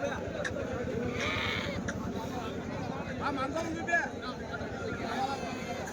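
Sheep and goats at a busy weekly livestock market in Kadiri, with scattered bleats over a continuous background of crowd chatter and nearby voices talking.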